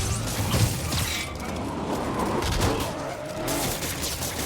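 Bursts of gunfire in Marvel's Spider-Man video game, a dense crackling fusillade of shots with mechanical clatter, steady and moderately loud throughout.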